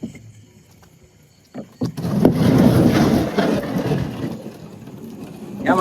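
A wooden fishing boat is shoved over stones toward the water: after quiet opening seconds, a few sharp knocks lead into a loud, sustained scraping and grinding rumble close by, easing slightly toward the end.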